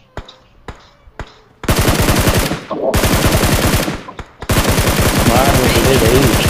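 Rapid automatic gunfire from a battle royale game comes in long loud sustained bursts, preceded by a few scattered single shots, with players talking under it.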